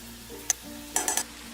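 A spoon stirring Saudi kabsa masala in a frying pan gives a few short scraping clicks, one alone and then a quick cluster of three, over a faint steady sizzle.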